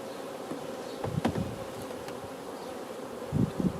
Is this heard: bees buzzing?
yes